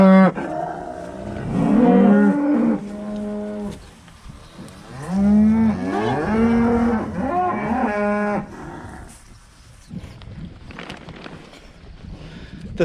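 Cattle moo on a farm, several long, loud, close lowing calls one after another, then a quieter stretch of wind and faint background noise.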